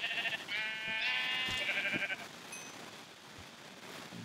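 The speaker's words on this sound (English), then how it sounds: "there are sheep." Minecraft sheep bleat in a quick run of wavering cries near the start, then fall silent against faint game ambience.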